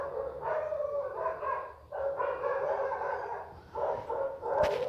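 Several street dogs bark out in a lane, a fairly loud, continuous run of overlapping barks and yelps with short pauses between bursts, and no voices.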